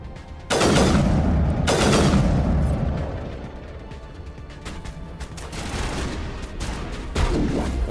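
Video game gunfire and explosions erupt in Mass Effect Legendary Edition combat, a few loud, close, booming bursts followed by scattered lighter shots and pops, with no voices over them.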